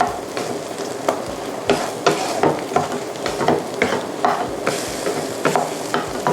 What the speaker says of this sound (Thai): นี้เราก็จะผัดให้ไข่มันสุกค่ะ